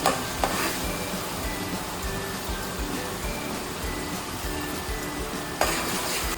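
Ginger frying in a pan for a home-cooked biryani gives a steady, close sizzle, with a couple of brief utensil clinks at the start and near the end.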